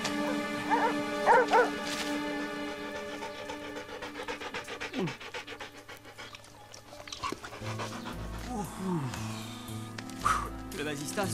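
Dogs in a French animated cartoon pant and yip in short bursts, heard over continuous dialogue and background music.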